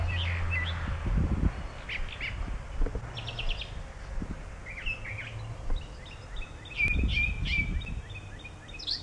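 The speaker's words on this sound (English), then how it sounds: "The birds sound happy today." Birds chirp and tweet in short scattered calls at a moderate distance, with occasional rustling and low outdoor noise between them.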